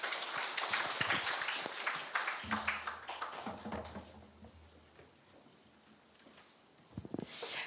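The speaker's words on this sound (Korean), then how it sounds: "우리 교수님께 뜨거운 박수 한 번 더 보내드릴까요?" An audience applauds after a professor's talk at a university information session on a learner-designed convergence major, with a dense burst of clapping at first that thins out and fades, then a brief flurry near the end.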